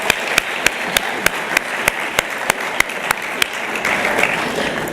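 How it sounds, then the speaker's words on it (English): An audience applauds the speakers at an event with a full, steady wash of clapping, while one nearby pair of hands claps in a loud, regular beat that stands out until near the end. "let's have another round of applause for our amazing speakers"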